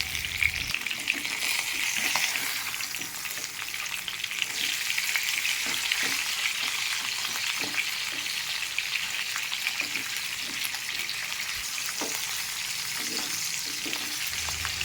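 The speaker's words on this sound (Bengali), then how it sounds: "মাথাটা ভাজা হতে থাকুক," A fish head fries in mustard oil with a continuous close sizzle and hiss, broken by scattered soft clinks and pops as it cooks in the pan.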